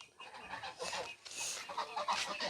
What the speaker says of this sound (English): This is our chickens.